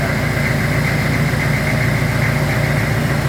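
Close and loud, a tractor engine drives a water well drilling pump in a constant idling drone, with heavy low-frequency rumble and vibration that never lets up.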